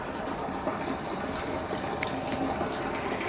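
A home water tank being filled by a motor pump, a continuous close rush and gush of flowing water without any talking.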